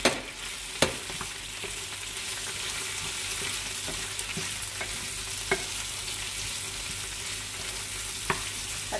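Onion, ginger and garlic frying in a pan, a steady close sizzle running throughout, broken by a few sharp clicks from stirring.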